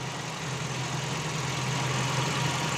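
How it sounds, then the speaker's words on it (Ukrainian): A steady whooshing drone from two radiator cooling fans on a hot Audi A3 1.6 MPI, with a low engine hum underneath, constant and unbroken throughout. "Зараз нагрів машину до 100 градусів, включились вентилятори."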